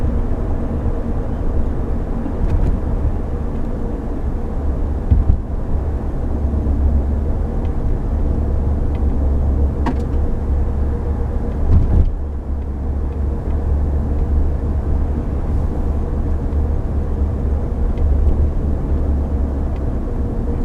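Cabin of a 2008 Acura TL sports sedan driving at night, a steady low road and engine rumble with muffled tire hum, constant and even, with a couple of brief thumps from the road.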